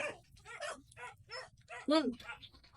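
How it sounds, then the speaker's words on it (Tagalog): Several dogs bark and yip in short bursts close by, with excited whimpers in between, over a noisy background. "Grabe, ang daming aso eh."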